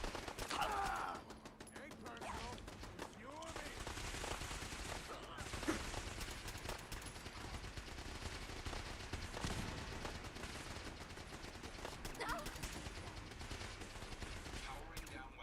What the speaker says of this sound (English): Why are you shooting at my base?